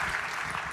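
Audience applause at a film festival panel with production designers, a steady dense clatter of clapping throughout, no voices over it.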